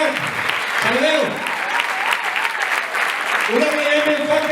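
A concert audience at a Christmas performance by a local music society claps in steady, lively applause, while a voice speaks over the clapping.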